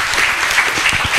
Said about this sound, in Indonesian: Round kedua kita tutup, tepuk tangan dulu